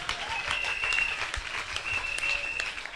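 A church congregation applauds in a sustained, fairly close wash of clapping that holds steady throughout, with no one speaking over it.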